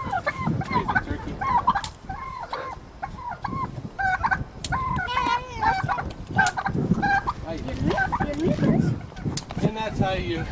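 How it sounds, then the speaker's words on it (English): A turkey in Honduras gobbling repeatedly at close range in bursts, mixed with other fowl calls and someone talking over the noisy outdoor scene. "Crazy turkey."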